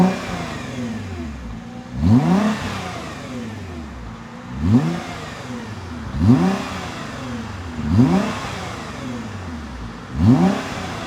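A Nissan GT-R fitted with a mid-pipe exhaust revs repeatedly, five loud throttle blips rising and falling at regular intervals over a steady idle, close by.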